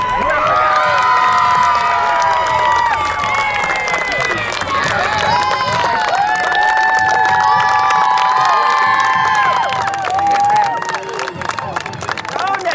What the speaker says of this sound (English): Ladies and gentlemen, once again, big round of applause.